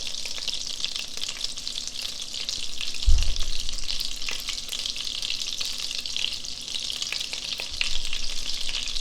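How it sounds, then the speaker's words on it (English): Sesame oil sizzling across a heated flat top griddle, a steady bright hiss that runs throughout, with one dull low thump early on. "as the flat top gets warmed up, let's coat it with a little sesame oil."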